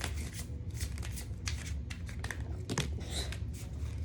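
Soft, rapid papery riffling of tarot cards being shuffled, close and continuous with brief crisp snaps, no talking.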